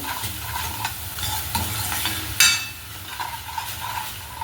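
Grated fresh coconut with melting sugar is sautéed in a pan for a traditional kheer, with steady stirring scrapes over a low sizzle and one sharper clink of the spatula against the pan.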